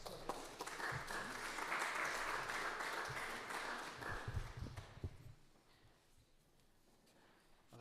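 A room full of people at a funeral applauds, a dense wash of clapping that swells and then fades away into quiet, heard from within the crowd.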